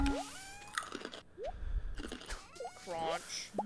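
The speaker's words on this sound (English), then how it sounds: "We just hear crunching." Crunchy chewing in a Stardew Valley game session, soft bites and squishy mastication scattered through a few seconds, close and fairly faint, with game chimes and sweeps mixed in.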